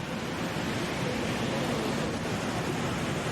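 A waterfall between Lake Erie and Lake Ontario roars as a steady, broad wash of rushing water, constant and fairly loud with no voices.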